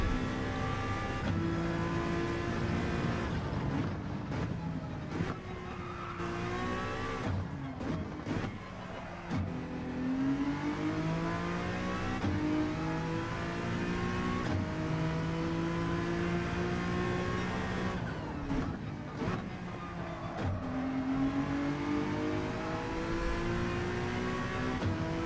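A Gran Turismo 7 race car engine climbs steadily in pitch, then drops sharply at each upshift. The cycle repeats several times in a sustained, droning whine.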